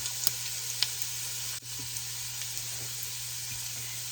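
Food frying in hot fat in a pot for loaded potato soup; a steady close sizzle with occasional small pops and crackles, no voices.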